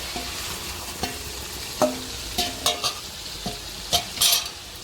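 Fried potatoes and tomato sizzle in oil and masala in a pan while being stirred, with a steady frying hiss and intermittent scraping clinks of the spoon against the pan.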